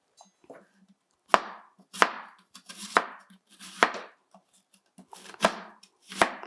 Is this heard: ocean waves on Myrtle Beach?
no